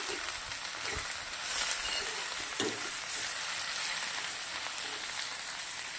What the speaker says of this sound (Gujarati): તેલના અંદર ભીંડાને સરસ મજાના શેકી લેશું.